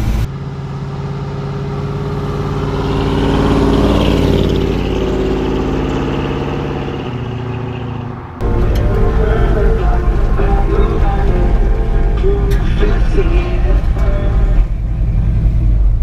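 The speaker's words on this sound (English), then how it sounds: "thanks for going for a little cruise with us in the K10" A 1978 Chevrolet K10 pickup truck drives, its engine rising and falling close by, then a louder, rougher steady run after a cut.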